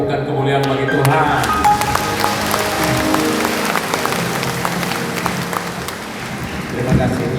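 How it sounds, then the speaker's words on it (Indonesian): Congregation clapping in glory to God at a Catholic charismatic revival gathering in Kefamenanu. Moderately loud clapping continues throughout, with voices and some tonal sound running on top of it. "Beri tepukan kemuliaan bagi Tuhan."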